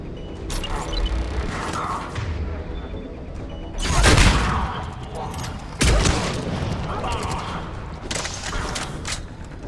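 Gunfire bursts and grenade explosions in the video game Mass Effect 3 on Eden Prime, a steady rattle of shots punctuated by two louder booms, with voices talking over the fight.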